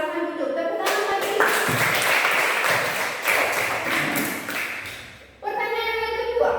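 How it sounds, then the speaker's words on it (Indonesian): A classroom of students clapping together, a burst of close, lively applause that swells and then fades, framed by brief talk before and after it. "Tepuk tangan lagi."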